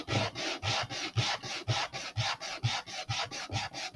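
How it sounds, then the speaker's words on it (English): Sandpaper scrubbed back and forth on a mat to take burrs off model rocket fins, an Estes Great Goblin, in steady rhythmic raspy strokes, about two per second, close and loud with no talking. "just use a piece of sandpaper on the ground, or on my mat rather, and try to take those burrs off"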